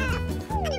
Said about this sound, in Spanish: ¡Hay un gatito adorable!